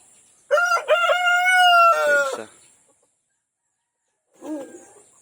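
A large Rhode Island Red rooster crows once loudly and close by, a long rising-falling call, followed after a pause by a shorter clucking sound.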